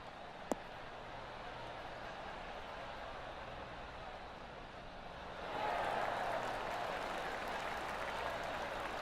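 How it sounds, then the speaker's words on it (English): At the WM Phoenix Open golf tournament, spectators on the 7th hole break into applause after a shot; the clapping swells midway and holds steady, faint and distant over an outdoor hush. "That deserves a golf clap."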